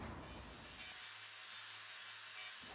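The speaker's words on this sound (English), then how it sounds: "We'll be using a 80 grit flap wheel just to take off that e-coat on the surfaces that we'll be gluing" An 80 grit flap wheel on an angle grinder stripping e-coat from a car floor pan down to bare metal, a steady close abrasive grinding hiss that runs throughout with a faint motor whine.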